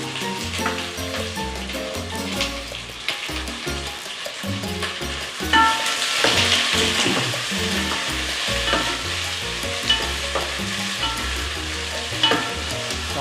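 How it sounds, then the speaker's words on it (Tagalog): Onions sautéing in a pot for seafood sinigang with mung beans, stirred steadily so a continuous close sizzle mixes with repeated scraping and clattering strokes of the spoon throughout. "So, hintayin natin makaramelize yung kanyang onion."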